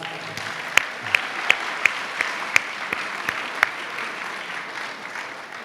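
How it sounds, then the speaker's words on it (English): Audience at a city attorney swearing-in ceremony applauding a speaker, a steady wash of clapping with a few sharp nearby claps standing out, lasting several seconds. "Let's give her one more round of applause"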